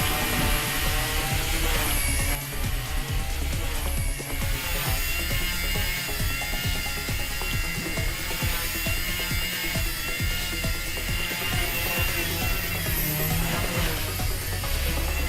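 A Walkera V100D03 RC helicopter hovers after a roof landing, giving off a steady, loud, high-pitched rotor and motor whine that runs unbroken through the whole stretch with no talking.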